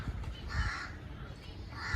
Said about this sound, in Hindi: जो कौवा है वो आ गया